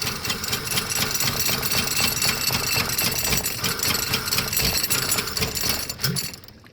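A Toyota 2JZ engine swapped into an old Jeep Cherokee, cold and cranking on a makeshift setup, a loud, continuous rapid mechanical churning with rhythmic pulses, close up, cutting off abruptly at the end.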